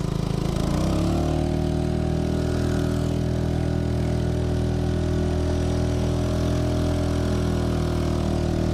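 A Honda 2.3 HP outboard motor on a Pelican Bass Raider boat starts up and settles into a steady, loud drone, running continuously and close by with no talking.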